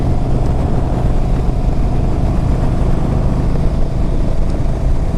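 A 2009 Yamaha 950 Tourer motorcycle cruising on the road, with steady engine drone mixed with heavy wind rush throughout and no voices.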